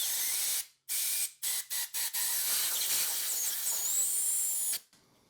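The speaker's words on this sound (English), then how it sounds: "Even if I take some really highly compressed air and try and blow it through the system, cover your ears." Highly compressed air blasts in loud hissing bursts through the fuel system of a Honda Elite 80 scooter, several short stuttering spurts followed by one long sustained blow, close up, with no talking.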